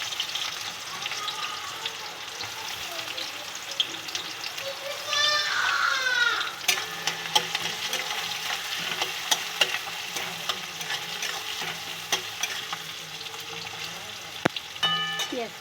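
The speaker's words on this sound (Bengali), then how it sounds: "পেঁয়াজটাকে ভাজা ভাজা ছেড়ে দিচ্ছি।" Chopped onion fries in oil with whole cumin and bay leaves, a continuous sizzle broken by sharp stirring clicks and scrapes, while children chatter and a voice talks in the background.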